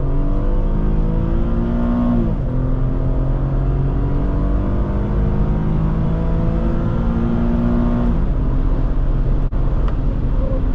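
A 2011 Infiniti FX35 engine pulling hard through a corner, a loud steady drone heard from inside the cabin with the pitch climbing in waves as the revs build and ease between gear shifts.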